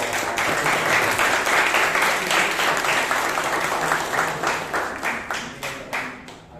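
Applause from the audience at a Toastmasters club meeting in Bangalore: dense, steady clapping from many hands that fills the room, then thins and tapers into scattered claps near the end.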